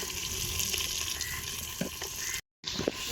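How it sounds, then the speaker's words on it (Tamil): Chopped onions frying and sizzling in hot oil with dried red chillies, a steady close crackle with occasional stirring scrapes and a brief dropout near the end. "வெங்காயம் போட்டுக்கலாம், நறுக்கி வச்ச வெங்காயம்."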